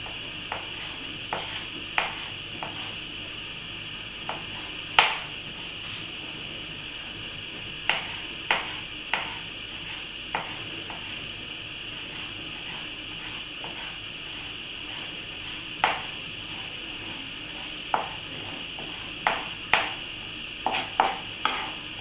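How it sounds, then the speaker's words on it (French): A knife mincing basil on a cutting board: irregular, crisp taps, some in quick clusters, close and clear over a steady background hum, with no talking. "À présent, je vais émincer et ciseler mon basilic."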